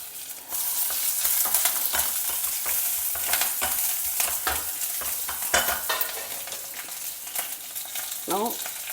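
Mustard seeds, urad dal, curry leaves and green chilies fry in hot coconut oil in a kadai, a steady close sizzle dotted with sharp crackling pops and stirring scrapes, with no talking.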